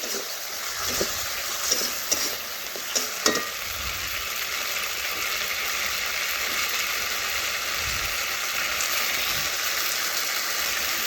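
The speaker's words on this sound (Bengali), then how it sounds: "পটল ভালোভাবে মশলার সাথে মিশিয়ে আমি 2 থেকে 3 মিনিট কষে নিচ্ছি" Pointed gourd stir-fried with spices in a pan, a steady close sizzle with a few sharp spatula knocks and scrapes early on before the frying hiss settles.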